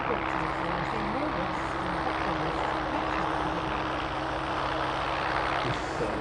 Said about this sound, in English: This was primarily a naval helicopter designed to operate from frigates, hence it has a folding tail and folding rotor blades